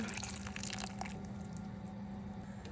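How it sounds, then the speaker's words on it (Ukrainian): Boiled water poured into a pot over cut potatoes, a steady broadband splashing rush that runs throughout without pause, close and moderately loud, busier at the start and softening slightly toward the end. "Заливаємо нашу картоплю."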